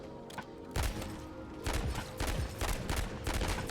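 Pistol shots fired one at a time in Modern Warfare 3 Zombies, a series of sharp, loud single reports in an uneven rhythm over steady game background noise.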